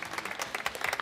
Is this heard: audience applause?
yes